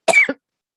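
A single short, sharp cough, close and loud, made of two quick bursts and then silence.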